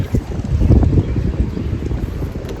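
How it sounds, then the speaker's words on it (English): Strong 30 mph wind gusts batter the microphone inside a parked camper van in Tennessee, in low, rumbling surges, loud and close, rising and easing over a few seconds. "there's 30-mile-an-hour gusts of wind"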